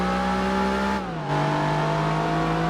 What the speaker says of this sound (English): This was especially noticeable on the Dodge Viper, which used to sound like this.